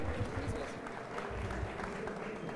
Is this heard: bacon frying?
no